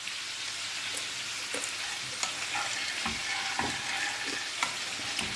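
Peanuts cooking in a pot, stirred with a wooden spoon, giving a steady low sizzle broken by scattered scraping knocks of the spoon against the pot, fairly close and with no talk.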